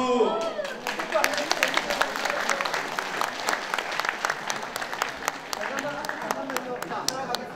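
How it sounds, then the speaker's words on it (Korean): Audience applause fills a ceremony at the Busan 2030 World Expo bid citizens' rally, with the mayor and guests on stage for a commemorative photo. The clapping is dense and sustained, and a voice can be heard faintly at the start and end. "다 같이 박수!"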